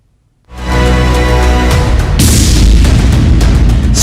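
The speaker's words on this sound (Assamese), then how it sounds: "স্কুটিত ফটকানি থাকোঁতেই বিস্ফোৰণ।" A scooter loaded with Diwali firecrackers explodes on a road, bursting suddenly into a loud, sustained roar of blasts and crackling that continues for several seconds.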